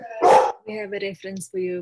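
A pet dog barks loudly and close by in one sharp burst, followed by a few shorter whining yips, while a person speaks over the sounds during an online artist conversation.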